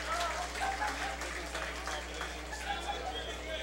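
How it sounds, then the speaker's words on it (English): Crowd at a NACRA rugby match between Guyana and Cayman Islands gives a steady round of applause as an injured player leaves the pitch, broad clapping sustained throughout with a low crowd rumble underneath. "That's good to see the crowd giving him a round of applause for coming off."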